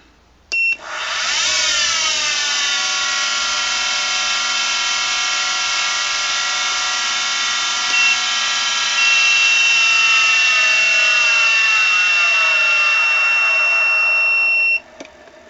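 A Sangmutan 1100W DC CNC spindle motor starts abruptly and runs at a loud, steady high-pitched whine for about fourteen seconds, its pitch creeping slightly before it cuts off sharply, heard alone and close.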